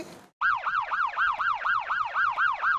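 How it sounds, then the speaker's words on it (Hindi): A police siren wails in a loud, close, regular up-and-down cycle, about ten sweeps in quick succession, after a brief burst of noise and a short gap at the start. "अरे ये घंटी नहीं, पुलिस का सायरन है"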